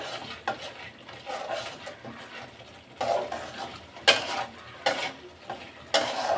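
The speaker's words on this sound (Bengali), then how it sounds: "খুব সুন্দর করে নাড়াচাড়া করে দিতে হবে আমি আরও কিছুক্ষণ কষিয়ে নিব" A spice masala sautés in a pan, its quiet sizzle punctuated by several distinct scraping stir strokes of a utensil against the metal, close by and without talking.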